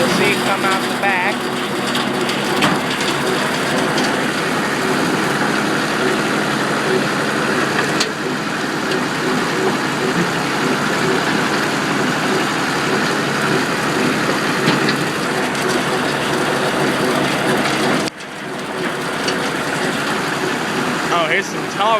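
A Kubota M4050 two-wheel-drive full-size tractor shredding grass, its engine droning loud and steady with the crackling whir of the mower; near the end the sound drops briefly, then builds again.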